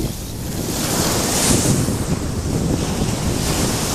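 Surf rushing and breaking close by, a steady roar of churning water with gusty wind buffeting the microphone.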